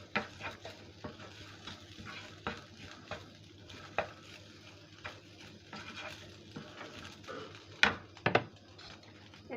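A spoon stirs and scrapes through a rohu fish mixture with garam masala powder in a pan, giving soft rhythmic clinks over a faint sizzle, with a few sharper metallic knocks near the end.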